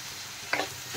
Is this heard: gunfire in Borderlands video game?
no